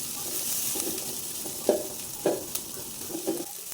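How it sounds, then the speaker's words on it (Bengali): Garlic, onion and slit whole green chili frying in soybean oil, a soft steady sizzle under a few spaced scraping stirs of a spatula in the pan. "পেঁয়াজটা একটু নরম হয়ে যাওয়া পর্যন্ত ভেজে নিচ্ছি"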